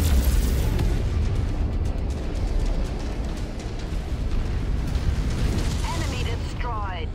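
A destroyed enemy mech bursts apart in Mechwarrior 5, a heavy, sustained rumbling explosion with dense low boom filling the whole stretch, fading into crackle at the end, with a voice speaking over it.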